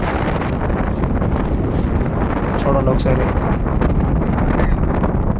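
Strong cyclone wind on the Tamil Nadu coast near Chennai, with large waves, roaring and buffeting the microphone in a constant heavy rush, with a voice speaking briefly underneath.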